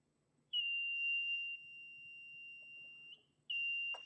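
A two-transistor light detector kit sounds its buzzer: a steady high electronic tone that holds for a few seconds, drops to a softer level, then cuts off briefly and comes back loud.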